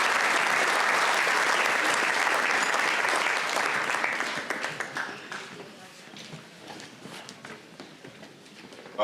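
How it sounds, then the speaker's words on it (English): Loud applause from a crowd at a Hall of Fame induction ceremony fills the first few seconds, then gradually fades to scattered claps and quiet murmuring. "I hope you give them a round of applause"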